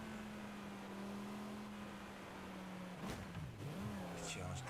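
Lamborghini Huracan engine in the racing game Forza Horizon 5, a steady low drone that dips and swells as it revs near the end, with a brief burst of other game noise midway.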